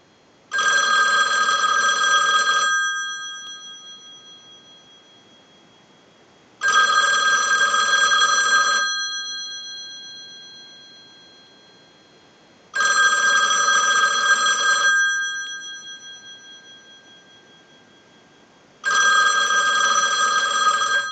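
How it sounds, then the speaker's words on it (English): A loud mechanical payphone bell rings in four long bursts, each about two seconds, separated by roughly four seconds of silence, driven by a ring cycle from a line analyzer. "use the analyzer and send a ring cycle like you were getting a call"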